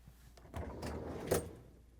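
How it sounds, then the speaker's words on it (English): Whirlpool refrigerator freezer door pulled open, a soft close rumbling slide ending in a short sharp clack, alone in a quiet kitchen. "To get to the part, we need to open the freezer door."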